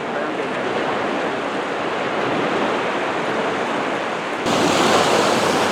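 Cold Baltic Sea waves wash against the shore in a continuous broad roar, close and loud, with wind buffeting the microphone.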